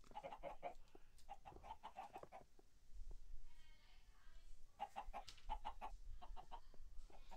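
Caged chickens cluck in Minecraft, short bursts of repeated clucks in two clusters separated by a quieter stretch, close and clear over faint background noise.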